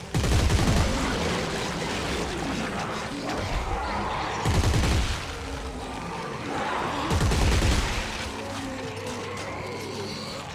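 Weapon gunfire in the game Dead Space 3 comes in three loud, rattling bursts spaced a few seconds apart, with quieter mechanical noise and action in between.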